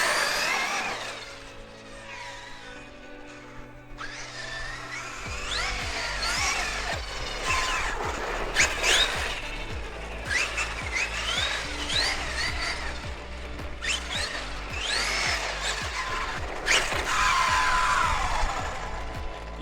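A Traxxas X-Maxx radio-controlled monster truck drives and drifts around a slick parking lot, its electric motor whining and revving in rising and falling bursts with tire scuffing, fairly close and continuous.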